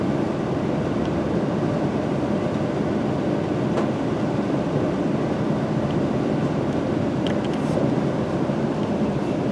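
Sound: London Midland train departing Stafford station

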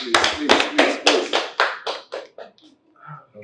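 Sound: round of applause, clapping

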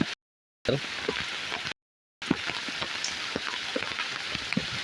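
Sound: heavy rain falling

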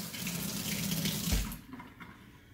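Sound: rinsing golf club head under running tap water

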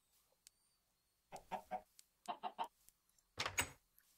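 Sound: chicken clucking in Minecraft video game

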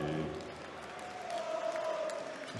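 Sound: darts crowd cheering in the Saxon Arena

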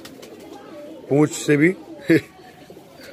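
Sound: female pigeon cooing, Punjabi Malwai breed

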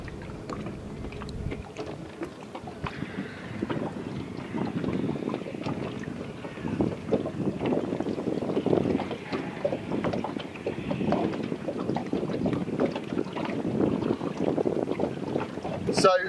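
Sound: Ribeye A683 boat running with outboard engine on water

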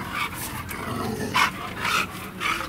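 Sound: dog growling

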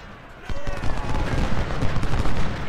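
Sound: gunfire from infantry shooting in video game Ultimate General: Civil War

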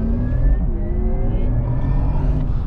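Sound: electric Porsche Taycan Turbo S driving fast

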